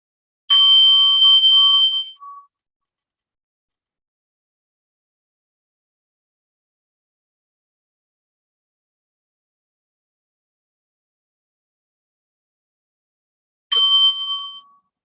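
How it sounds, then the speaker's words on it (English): A meditation bell rings twice during a breathing meditation, each a clear, bright metallic strike that rings out for about two seconds. Long silence separates the two rings, and no one speaks. "I'm going to ring the bell now."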